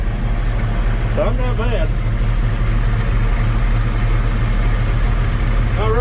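A Gleaner M2 combine harvester's engine idles with a loud, steady low rumble that runs throughout, while someone speaks briefly over it.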